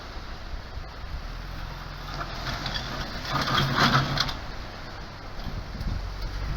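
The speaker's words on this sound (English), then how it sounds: "My tow bar scrapes on a lot of things" A Falcon wagon's tow bar scrapes and grinds over rocks on an Esperance coastal track, a steady rough crunching that swells louder midway over a constant engine rumble.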